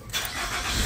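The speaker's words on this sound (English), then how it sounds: "I'm gonna turn on the car and" A 2020 Nissan Altima's engine starts with a short, loud crank that catches into a steady close-up running roar, lasting under a second.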